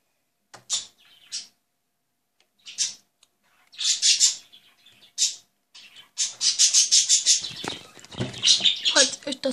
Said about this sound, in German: meine Vögel sind zu dumm, die Klappe zu halten